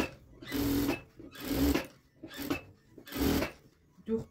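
A sewing machine stitching a blouse collar runs in four short bursts of rapid mechanical whirring, with quiet pauses between them and faint handling noise after.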